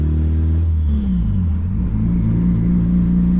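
A turbocharged Honda Accord engine idles while warming up with a steady low rumble, running continuously and fairly loud throughout, with no voices.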